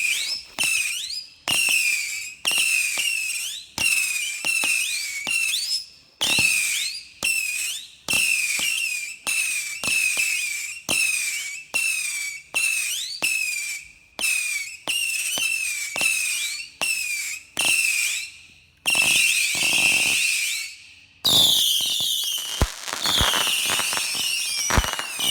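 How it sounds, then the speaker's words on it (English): Firework rockets fire in a fast sequence, each launch whistling up and bursting into red, white and blue mine stars with a Saturn missile effect, loud crackling pops repeating for about twenty seconds and ending in a dense crackling finale. "It creates a nice red, white, and blue mine to Saturn missile effect."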